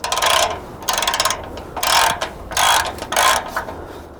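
Bolts are tightened on a fence with a ratcheting tool, giving loud close bursts of rapid clicking that repeat about four times with short pauses between.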